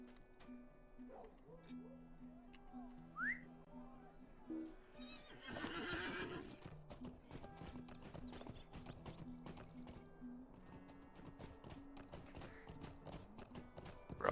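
A horse in LOTR: The Third Age video game clip-clops in uneven hoofbeats and gives a loud whinny midway, with faint tonal game music underneath and speech present.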